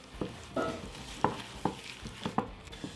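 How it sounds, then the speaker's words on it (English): Eggs, sugar and cornstarch being whisked together in a bowl, with rhythmic scraping taps of the whisk against the sides, about one stroke every half second, close and fairly soft, without speech. "We're going to start by whisking together our eggs, our sugar, and our cornstarch until it's all thoroughly combined"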